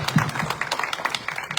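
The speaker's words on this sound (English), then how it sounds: "You all may please applaud for these candidates." An audience claps for school board candidates at a forum, a thin scattering of hand claps that stays light and uneven rather than building into a full ovation.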